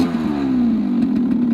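A warm Rieju MRT Pro 50 motorcycle engine idles and revs close by, a buzzing small-engine drone whose pitch slowly climbs, with some mechanical clatter and no talk.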